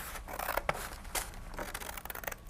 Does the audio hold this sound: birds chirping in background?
no